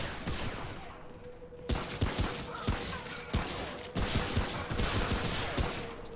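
Rapid gunfire in the video game Remnant: From the Ashes, bursts of overlapping shots and sharp cracks in an uneven rhythm over a steady background rumble, fairly faint, with no talking.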